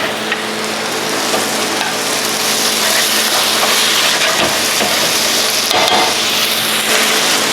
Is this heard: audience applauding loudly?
no